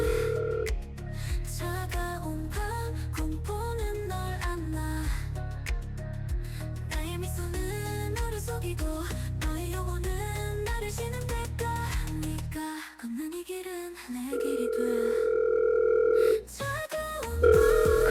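A steady rhythmic electronic tone repeats under music, then a phone ring pattern stands out near the end.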